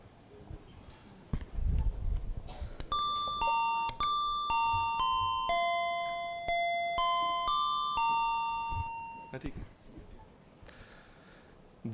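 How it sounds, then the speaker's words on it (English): A chiming electronic alarm tone played over a hall's sound system at a career guidance program, a sequence of bright, evenly spaced bell-like notes ringing out and decaying for several seconds, with faint room noise before and after. "This was just an alarm to wake you up."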